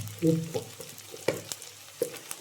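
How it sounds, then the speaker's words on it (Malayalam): Onions frying in a pan for a fish curry with mango, a soft sizzle broken by a few distinct spatula knocks and scrapes. "സവോള നന്നായി മൂത്ത് വരണം."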